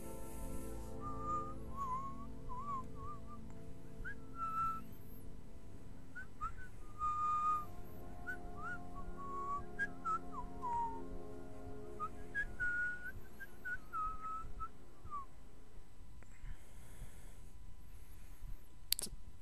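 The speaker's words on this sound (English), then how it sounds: "after that lovely whistling session" A person whistles a wandering melody alone for about twenty seconds, with clear, fairly quiet, bright tones and short pauses between phrases over a low steady background.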